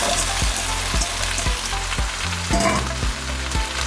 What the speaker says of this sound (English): And then we put in the onion and pepper mix.